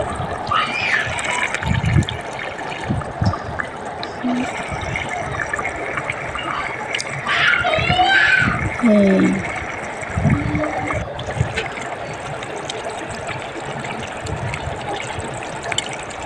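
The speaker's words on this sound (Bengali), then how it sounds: "পানি দিয়ে দেব অল্প পরিমাণ" A small amount of water poured into a pot of chicken and potato curry, a loud splashing gush early on that settles into bubbling and simmering, with brief scraping and a few faint voice-like sounds.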